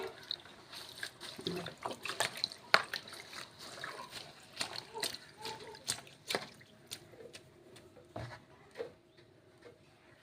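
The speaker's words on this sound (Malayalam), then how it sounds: "ചീര ശരിക്ക് കഴുകി വൃത്തിയാക്കി വെള്ളം പോകാൻ വേണ്ടിയിട്ട് വെച്ചേക്കാണ്" Water trickles and splashes in irregular bursts as spinach leaves are swished and rinsed, with soft drips between, close and fairly quiet.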